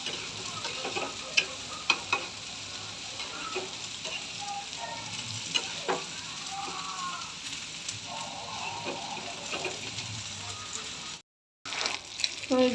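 Garlic and green chili sizzle and fry in a pan as onion goes in for a fish-roe dish, a steady crackling sizzle with occasional stirring scrapes, close and continuous, briefly cut out near the end.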